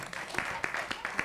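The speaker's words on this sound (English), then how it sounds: "Can we have a final round of applause?" An audience at a Key West affordable housing meeting at City Hall gives a final round of applause, a soft, steady patter of many hands clapping at a moderate distance throughout a brief moment.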